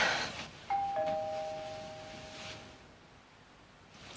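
A two-tone doorbell chime rings once indoors, its two clear notes ringing out and slowly fading over a quiet room with no voices.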